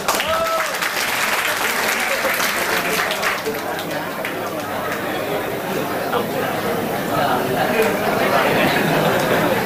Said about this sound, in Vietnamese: Xin mời cho thầy Sáu Minh một tràng pháo tay ạ.